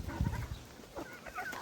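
Hens clucking on a small farm, a few soft, scattered clucks at moderate distance against quiet outdoor background.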